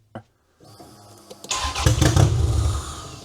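A Toyota Camry engine on a booster pack cranks after a click and a short pause, then turns over and roughly catches in a loud, close churning rumble.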